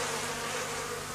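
Mediterranean bees buzzing around agave plants on the Côte d'Azur, a steady close drone that holds without a break throughout.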